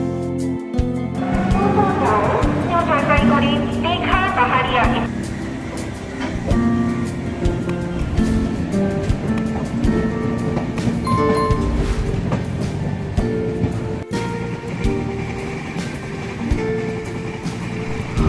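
A passenger train from Howrah to Digha rumbles steadily along, with rattling and clattering throughout, a few squealing tones early on and occasional voices beneath.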